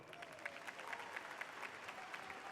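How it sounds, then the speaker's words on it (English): Steady applause from an audience at a high school graduation, fairly quiet and distant, with a continuous patter of clapping throughout. "Please give him a special round of applause."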